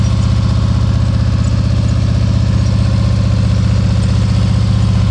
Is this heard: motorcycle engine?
yes